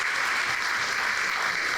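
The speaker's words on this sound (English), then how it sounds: "So I just want to give a big round of applause to Clark." Steady applause from a gathered crowd at a Recovery Day event in Kenora, Ontario, a dense continuous wash of clapping lasting throughout with no gaps.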